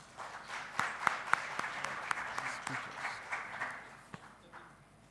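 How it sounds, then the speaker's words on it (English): An audience applauds to welcome a guest speaker at an event: scattered, moderately loud clapping with a few sharp, distinct claps standing out, swelling briefly and then tapering off toward the end. "Ladies and gentlemen, with a huge round of applause,"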